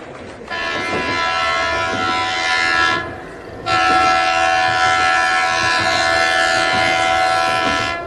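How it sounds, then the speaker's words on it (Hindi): A loud, sustained train horn blares twice, with a brief break between, over the low rumble of a train departing a platform amid applause. "प्लेटफॉर्म पर खड़े पुलिसकर्मी और रेलवे कर्मचारियों की तालियों के बीच ट्रेन रवाना हो रही है।"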